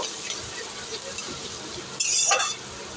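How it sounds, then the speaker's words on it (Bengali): Onion frying in a pan until reddish, a soft continuous sizzle close by that swells into a brighter hiss near the end. "পেঁয়াজটা একটু লাল লাল হয়ে ভাজা হোক"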